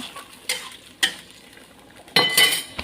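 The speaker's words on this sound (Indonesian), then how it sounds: "Kita aduk garamnya." A spoon stirs salt into a pot of pindang bandeng (Betawi milkfish stew), scraping in a few short strokes, with a longer, busier stir near the end and faint sizzling between.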